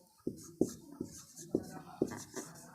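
Pen or chalk strokes land in a handful of sharp taps and short scratches, close and fairly quiet, spaced irregularly with no talking over them.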